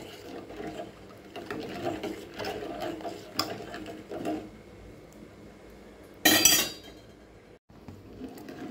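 Spoon scraping and clinking against a pot while sugar is stirred into mango payasam, soft repeated metallic taps and scrapes, with one sharp louder clatter late on.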